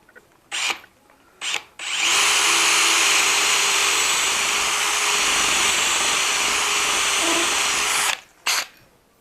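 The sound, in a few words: drilling hole with stepped drill bit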